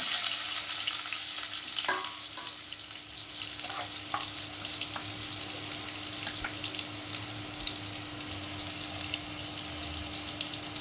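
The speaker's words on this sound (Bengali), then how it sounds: "কেটে রাখা আলুগুলো ভেজে নেব।" Cut potatoes frying in very hot oil in a pan: a dense, steady hiss and crackle that carries on throughout, close and even, with a few faint clinks of stirring early on.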